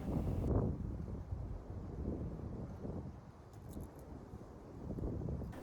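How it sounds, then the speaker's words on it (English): Steady outdoor wind gusting and buffeting a microphone at a ranch while a horse is groomed, a continuous low rumble that swells and eases throughout, with no voices. "The wind is starting to pick up again"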